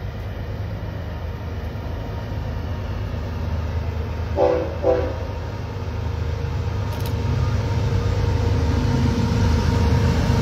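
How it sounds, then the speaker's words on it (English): Eastbound train pulling into Fullerton Station on track one, a constant low rumble of the approaching train with two short horn blasts midway and the rumble building louder toward the end. "Got another eastbound coming at us."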